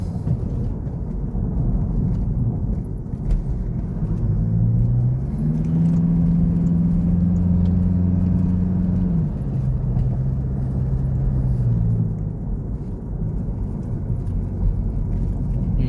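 A car drives along a mountain road with a drop on one side, its engine and tyre noise a steady, loud, close rumble, with a low engine note rising and falling as it climbs and shifts.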